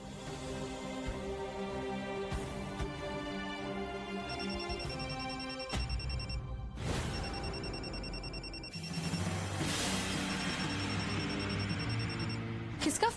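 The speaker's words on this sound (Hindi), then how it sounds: "किसका फोन है" A telephone rings with a steady, repeating electronic tone over continuous background music in a domestic drama scene, moderately loud throughout.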